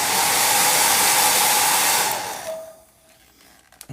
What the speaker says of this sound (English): giving it a quick blast with the hairdryer